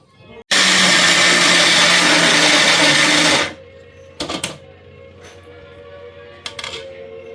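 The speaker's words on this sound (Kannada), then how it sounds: "ನೆಕ್ಸ್ಟ್ ಇವಾಗ ಅದನ್ನೆಲ್ಲ ಗ್ರೈಂಡ್ ಮಾಡ್ಕೊಳ್ಬೇಕು." A mixer grinder whirs loudly and steadily for about three seconds as it grinds peeled garlic and spices, then cuts off abruptly, leaving quiet kitchen noise with a few faint knocks.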